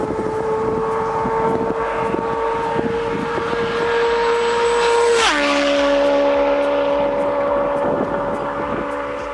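A Suzuki Hayabusa motorcycle roars past in a loud, close flyby, its exhaust note rising steadily then dropping sharply in pitch as it passes, continuing at a lower drone as it moves away.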